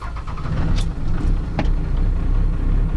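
A 6.7 PowerStroke diesel pickup truck engine turns over and settles into a steady, rumbling idle, loud and close, with a couple of brief mechanical clicks and no voices.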